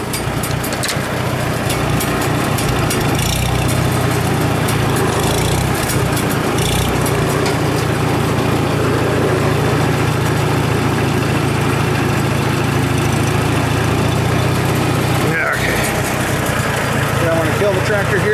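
A tractor engine runs steadily and loudly close by, a constant low rumble throughout, with a voice speaking over it.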